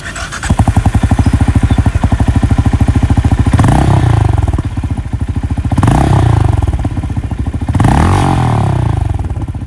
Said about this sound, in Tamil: எக்ஸாஸ்ட் நோட் நல்லாவே இருக்கு